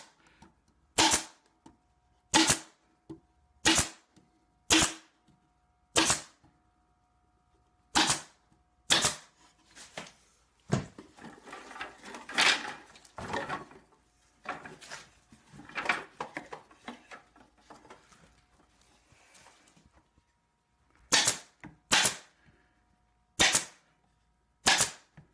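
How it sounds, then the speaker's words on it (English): A hand staple gun, like a T50, fires staples to fasten wire onto a wooden frame: sharp, loud snapping shots in quick bursts at the start and end, separated by a stretch of rustling, handling and wire-pulling noise. "This would be the equivalent of like your T50, just hand staple gun."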